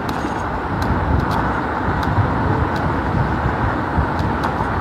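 A polluting combustion-engine car drives along a city street, with a steady, fairly loud engine and road rumble passing close by and no talk over it.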